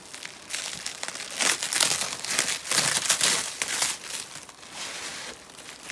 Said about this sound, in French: Je déballe ces pattes, je les libère.